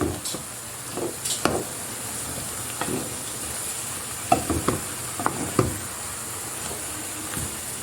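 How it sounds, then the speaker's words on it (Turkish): Chopped leeks sizzle in a pan with a constant frying hiss while a spoon stirs them, giving scattered scraping knocks over the steady sizzle. "Pırasamın tamamını ilave yaptıktan sonra güzelce karıştırıyorum."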